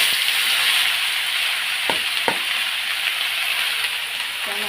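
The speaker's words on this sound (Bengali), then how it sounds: "চাল কুমড়োটা এখন ঢেলে দিয়ে দিলাম" Ash gourd poured into hot oil with black cumin and dry chilli gives off a steady, loud sizzle and hiss, with a couple of short utensil knocks partway through.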